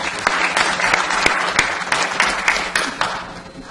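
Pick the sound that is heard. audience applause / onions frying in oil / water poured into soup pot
audience applause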